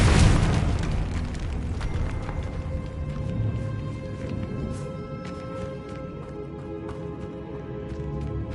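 A Confringo blasting spell detonates in Hogwarts Legacy, one loud close burst at the start with a long rumbling decay and scattered debris clatter fading out, no voices.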